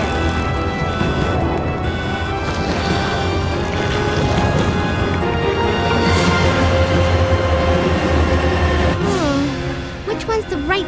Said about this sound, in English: We have to stop the train, right?